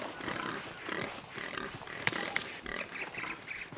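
A pig in Shadow of the Tomb Raider gives a series of rough, throaty grunts in short bursts, moderately close, amid ambient jungle noise.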